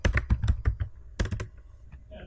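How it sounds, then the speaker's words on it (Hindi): Keys clack on a computer keyboard during an HTML5 graphics lesson, a quick run of close, loud taps followed by a short second burst, with no talking. "तो मैं यहाँ पे टाइप करता हूँ SVG"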